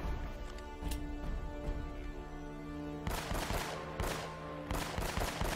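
Rapid bursts of gunfire from the Uncharted video game, with dense volleys of shots and impacts that intensify in the second half, loud and continuous over a game soundtrack.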